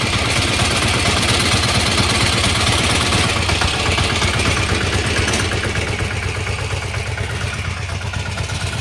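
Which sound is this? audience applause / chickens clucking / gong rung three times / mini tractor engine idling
mini tractor engine idling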